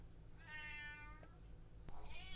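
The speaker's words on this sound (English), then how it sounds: "My cat in real life is meowing." A pet house cat gives a long, wavering meow, then after a brief pause a second shorter meow, close and clear over a steady low hum with no talking.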